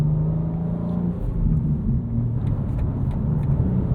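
A 2025 BMW M2 with a 473 hp engine and six-speed manual gearbox, its engine droning loudly and steadily from inside the cabin, with slight rises and dips in pitch as the auto blip matches revs on a downshift.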